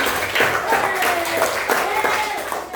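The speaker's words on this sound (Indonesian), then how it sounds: "Tepuk tangan untuk pasti." Classroom of children applauding, heard as brisk, fairly loud clapping that runs throughout, with voices mixed in.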